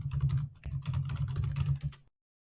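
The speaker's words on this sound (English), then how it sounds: "Sorry for the loud typing." Loud, rapid typing on a computer keyboard, a dense run of close clicks and key thumps lasting about two seconds before stopping abruptly, with no talking.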